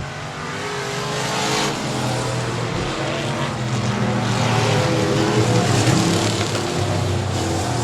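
Hobby stock race cars roaring around a speedway oval off turn four during a main event, several engines revving loud and continuous with rising and falling pitch as the pack passes.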